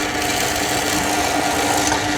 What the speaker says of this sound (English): This is quite a heavy shaving coming off the drill